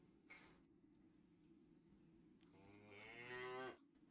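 A cow in the adventure game The Whispered World lets out one drawn-out moo near the end, rising and sustained, after a quiet stretch opened by a small glassy clink.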